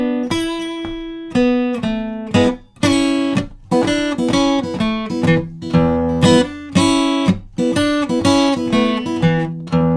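An electric guitar plays the main riff of a blues tune: a driving run of plucked, ringing notes in a steady rhythm with brief gaps between phrases, close and loud with no talking.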